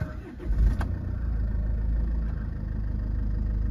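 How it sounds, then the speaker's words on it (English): A Jaguar XF 2.2 diesel Sportbrake with automatic gearbox cranks and fires up with a brief rising surge, then settles into a steady, close diesel idle that hums on evenly to the end. "Just start the car up."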